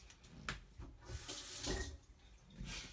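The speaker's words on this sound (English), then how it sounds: "I'm gonna rinse this off." Running kitchen tap water splashes steadily as something is rinsed under it, a soft, close, uneven gush with small bursts and no talking.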